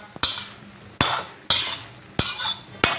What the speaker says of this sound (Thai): ทีนี้ผัดให้เข้ากันเลยนะครับ